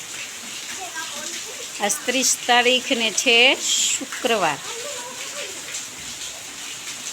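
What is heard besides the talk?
heavy rain falling, water from the roof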